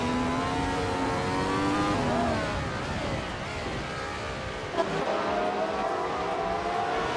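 A Ferrari 312 race car engine from 1975 in a retro DOS racing game whines with a steady high pitch, its tone shifting through gear changes and climbing again as it accelerates, loud and constant.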